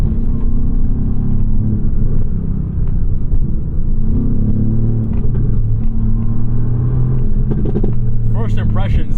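A 2018 Mercedes-AMG GT R with a 577-horsepower engine accelerates in manual mode, a loud, close cabin rumble whose pitch climbs through the gears, with excited talk heard over it.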